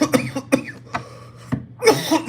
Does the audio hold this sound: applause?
no